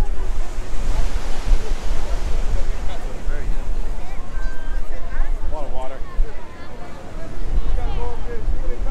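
Loud, steady roar of rushing water from Niagara Falls fills the whole clip, with gusts of wind noise and people chattering underneath.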